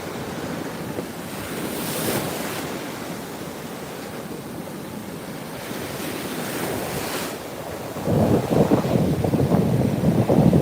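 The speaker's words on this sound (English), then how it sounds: "So if you see these waves breaking right now, that's a rip current." Ocean surf breaking on a beach where a rip current runs, with steady wind buffeting the microphone; continuous rushing wash that swells louder near the end, with no talk.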